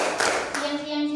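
Children play a rhythmic classroom ice-breaking clapping game, with a couple of sharp handclaps at moderate loudness. Voices chant along with the claps.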